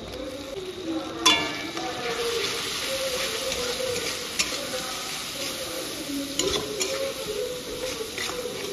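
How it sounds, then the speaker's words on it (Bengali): Masala of ground coriander, cumin, salt, turmeric, chilli powder, Kashmiri chilli powder and tomato sautéing in a pan, with a steady soft sizzle and occasional louder scrapes of stirring. "মশলাটা দেখুন কি সুন্দর কষানো হয়ে গেছে।"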